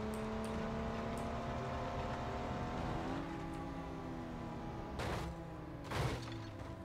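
A Ford Bronco with the turbocharged 2.0 Fusion engine and nine-speed gearbox revs continuously in the BeamNG Drive game, a steady droning engine note with shifting pitch and a couple of sharp impact-like bursts near the end.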